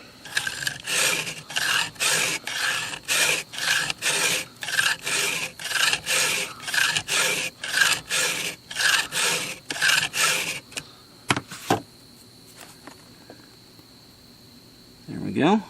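Hand file rasping across a chainsaw chain tooth in a steady rhythm of about twenty close, even strokes, followed by a few clinks and handling sounds.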